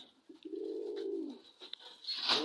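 A white Bombai pigeon gives a low, rolling coo lasting about a second, followed by softer fluttery calls and a brief rustle near the end.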